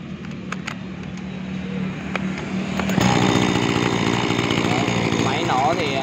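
A Makita chainsaw engine is test-started and revs up, a buzzy two-stroke roar rising loud and close after a quieter start, with someone talking over the opening seconds.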